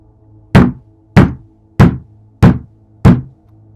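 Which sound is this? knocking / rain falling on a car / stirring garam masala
knocking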